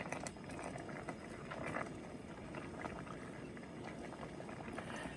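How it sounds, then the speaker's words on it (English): Water boiling in a pot on the stove for cooking macaroni, with oil added and the heat turned back up; a steady close bubbling and hiss runs evenly throughout, with no voices. "you have to kick the heat back up because it needs to be boiling"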